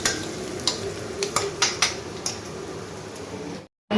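Okra sautéing in a pan for a tamarind gravy, a soft continuous sizzle with sharp clicks and scrapes of a spatula against the pan, ending in a brief dropout of silence.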